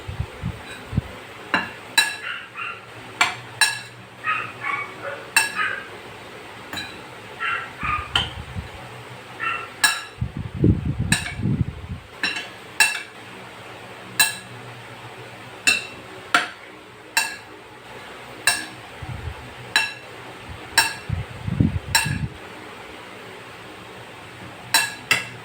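Utensils clink repeatedly against a bowl as ingredients are mixed, sharp metallic taps in an irregular rhythm over a steady low background, with occasional muffled bumps and no talking.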